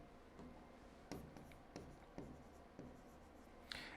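Chalk or marker strokes from a teacher writing out a physics calculation, faint scratchy bursts with short taps and pauses between them, quiet and close against a low hum.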